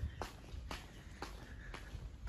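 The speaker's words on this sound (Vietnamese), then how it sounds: "Đi bộ luôn." Footsteps walking outdoors on a path toward a bird's nest, four or five evenly spaced steps, close and fairly quiet, with no talking.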